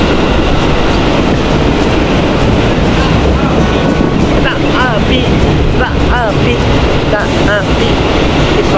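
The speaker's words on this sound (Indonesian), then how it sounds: "Kereta." A train rumbles past nearby with steady loud clatter, high squealing tones from the wheels rising and falling near the end; a voice is faintly heard.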